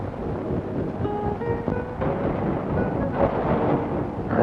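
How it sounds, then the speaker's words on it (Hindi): Heavy, rumbling booms roll continuously, like cannon fire heard from a distance, with a dense low-end roar and no voices, from a 1967 Hindi film. "हमारी तोपें करज रही हैं"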